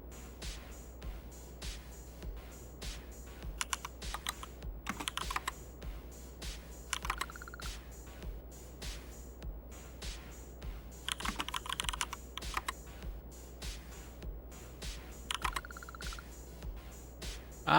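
Someone types on a clicky computer keyboard at close range, in quiet bursts of rapid keystrokes broken by short pauses, with a few louder flurries of clacking.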